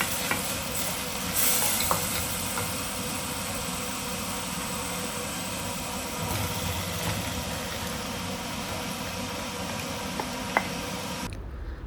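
Spice masala sizzling in oil over a low flame with occasional stirring, a steady soft frying hiss throughout with a few faint clinks, no talking.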